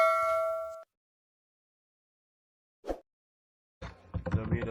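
A bright notification bell dings once with a ringing tone that cuts off abruptly, followed after silence by a short clap-like hit and then a burst of busy sound.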